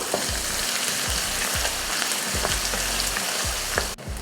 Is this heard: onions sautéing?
yes